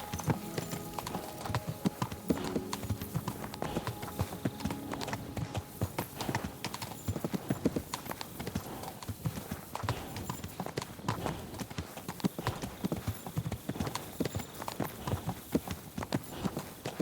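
Hooves of a horse clip-clop at a steady walking rhythm through Kingdom Come Deliverance 2, close and continuous for the whole stretch, with a brief whinny-like touch near the start.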